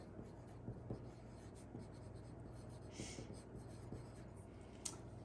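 Pen or pencil writing a name on a sheet of paper, with soft, scratchy strokes that come in short bursts over a low steady background hum. The sound is quiet and close, and no one speaks.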